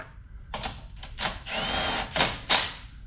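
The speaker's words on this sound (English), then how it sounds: "we can come back and just snug them up with a small impact" A small impact wrench snugging wheel hub bolts on a Lexus GS 350, giving several short buzzing bursts with brief pauses between them, close and fairly loud.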